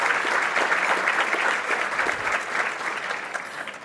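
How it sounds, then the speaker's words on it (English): A business audience at a Hispanic chamber of commerce event gives a steady round of applause for the Colombian ambassador, a dense wash of clapping from a large crowd heard on its own. "Please give him a round of applause."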